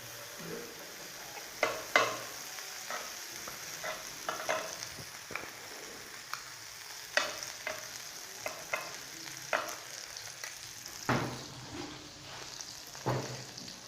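Butter sizzles on a hot chicken steak tawa. A soft sizzle runs underneath a series of irregular scraping and tapping knocks from a utensil, moderately close and fairly quiet, with no speech.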